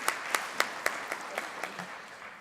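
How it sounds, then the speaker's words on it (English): A small conference-forum audience gives sparse applause, a handful of distinct, evenly spaced claps that gradually soften and thin out over a couple of seconds. "So let's give a round of applause to our World Bank colleagues."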